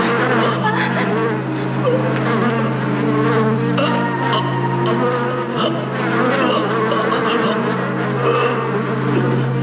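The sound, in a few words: bees buzzing, anime sound effect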